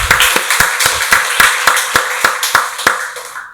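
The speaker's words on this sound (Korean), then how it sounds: "박수로 하나님께 영광 돌리겠습니다" A church congregation claps in unison at a Sunday worship service, about a dozen sharp, evenly spaced claps in a brisk steady rhythm, close and loud, with no talk.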